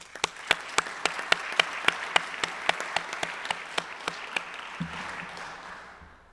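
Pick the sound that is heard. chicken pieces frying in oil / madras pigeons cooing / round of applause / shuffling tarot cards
round of applause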